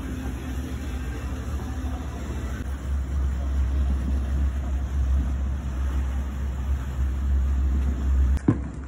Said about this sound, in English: I see the party boat coming.